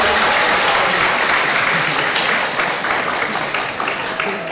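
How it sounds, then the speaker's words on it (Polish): Audience at a school election debate bursts into loud, sustained applause, dense clapping that holds steady and tapers slightly toward the end. "dajcie wielkie brawa!"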